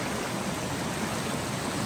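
A waterfall on a hike near the Toccoa River gives off an even, unbroken rush of water, steady and fairly loud with no voices.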